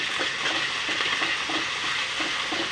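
Garlic paste and ginger paste fry in a pan for a stuffed bell pepper dish, giving a steady, close hiss of sizzling oil with faint stirring scrapes and no voices.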